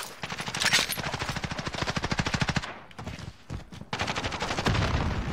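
Rapid automatic gunfire in Call of Duty Warzone, a fast rhythmic stream of loud shots that breaks off briefly, then resumes in another sustained burst up close.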